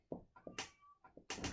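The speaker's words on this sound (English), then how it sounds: "I have a cat yowling somewhere." A cat yowling somewhere indoors, a short series of drawn-out, wavering cries with a few breathy bursts between them, faint and at a distance.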